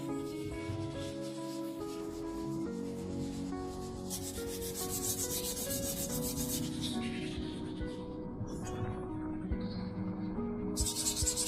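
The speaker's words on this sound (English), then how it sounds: "It took days to scrub." Motorcycle parts from a Honda CBR600RR restoration being scrubbed, with a steady, continuous rubbing and abrasive scraping that keeps going throughout at close range, with no talking.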